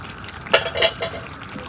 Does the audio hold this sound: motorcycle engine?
no